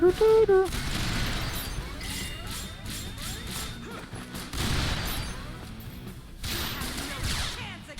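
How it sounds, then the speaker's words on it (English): Spider robot firing cannons in the video game Resonance of Fate, a dense barrage of booming shots and crashes across several seconds, with a short burst of game sound effects at the start. "Spider robot shooting me with cannons."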